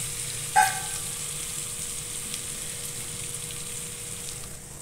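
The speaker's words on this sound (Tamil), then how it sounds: "இன்னும் கொஞ்சம் லைட்டாக வதங்கட்டும்." Onions sautéing in a pan for a prawn curry, a soft steady sizzle throughout with one brief stir or clink early on, no talking.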